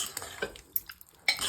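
Amla pickle stirred in a pan, with a few short scraping and clinking strokes of a spoon against the metal, close and fairly quiet, separated by brief pauses.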